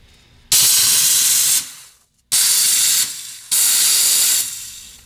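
A jewelry steam cleaner blasts steam onto a ring in three loud, close hissing bursts, each about a second long, separated by short pauses.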